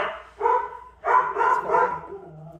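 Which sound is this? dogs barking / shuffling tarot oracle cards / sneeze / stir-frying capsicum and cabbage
dogs barking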